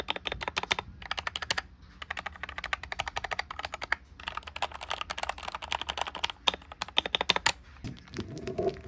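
Custom mechanical keyboard with lubed yellow switches typed on in quick, uneven bursts of crisp clacks, close up and fairly quiet, with brief pauses between runs.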